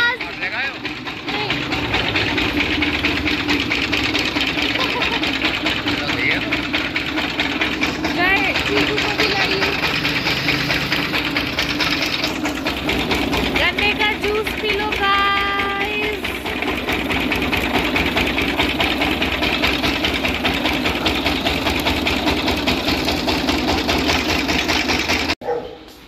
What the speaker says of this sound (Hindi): गन्ने वाले अंकल आ रहे हैं, अब इनसे हम गन्ने का जूस निकलवाएंगे